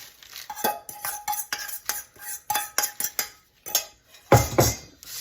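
A utensil scrapes and taps against a baking dish in a rapid series of short strokes while a crust for pumpkin cheesecake bars is pressed in, close and clattery, with a louder knock near the end.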